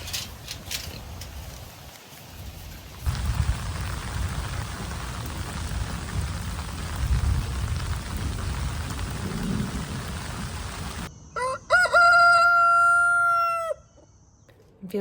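Heavy rain pours down steadily and loudly on a pig farm, with low rumbling underneath and a brief bird-like call near the end.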